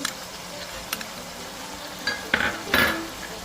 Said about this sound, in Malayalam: വെളുത്തുള്ളി നന്നായിട്ട് വഴറ്റിയെടുക്കും.